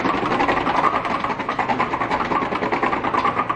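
A prize wheel called the Wheel of Death spins at a curiosity museum, giving a continuous rapid rattling tick close by, steady and even throughout.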